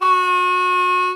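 A single harmonica 2 draw note, held steady and loud for about a second, bent only partway instead of fully down, heard alone and close.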